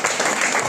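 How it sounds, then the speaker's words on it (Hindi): Seminar audience clapping in a short, steady burst, a dense mid-loud patter of many hands filling the hall without pause. "जोरदार ताली डॉक्टर नीम।"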